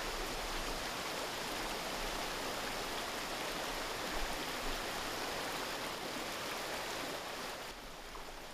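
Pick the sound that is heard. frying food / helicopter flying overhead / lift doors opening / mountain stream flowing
mountain stream flowing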